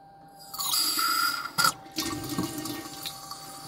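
Tap water runs into a sink for washing up with an eco-friendly detergent, a steady close splashing stream with a brief sharper burst midway and no talking.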